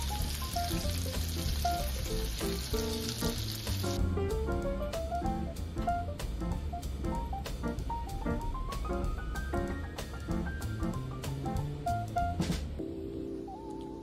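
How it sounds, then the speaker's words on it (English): Food sautéing in olive oil in a pan for a home steak dinner, a continuous loud sizzle with crackles and occasional stirring clatter, with no talk. "Saute until fragrant."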